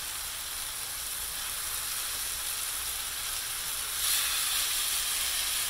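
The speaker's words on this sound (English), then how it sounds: "Now we'll get over here and mix up our ground beef some more." Ground beef sizzles steadily in a frying pan, a continuous close hiss that swells slightly louder near the end, with no talking.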